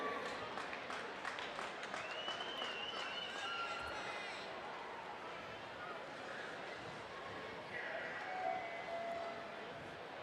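Crowd applause at a USA BMX Silver Dollar Nationals race in Hanford, California, clapping for a fallen rider, a steady broad wash of clapping and cheering under an announcer's amplified voice.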